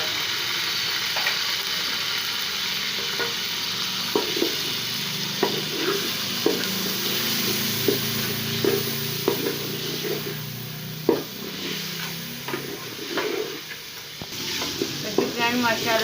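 Ginger garlic paste, curry leaves, cinnamon and garam masala frying in a pot for saag gosht, a loud continuous sizzle broken by repeated clattering spoon stirs, with no voice.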